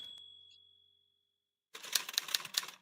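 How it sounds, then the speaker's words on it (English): A 1950s typewriter sound effect: after a near-silent stretch, a dense burst of quick, crisp key clacks with a few sharper strikes, close and fairly loud, lasting about a second. "there's that beautiful sound of a 1950s typewriter"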